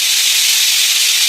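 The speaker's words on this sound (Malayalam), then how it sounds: "ഇത് ഞാനൊരു 4 വിസിൽ വരെയാണ് കേട്ടോ വേവിച്ചത്." A pressure cooker with Malabar-style coconut rice inside releases steam in a loud, steady, unbroken hiss, with no voices.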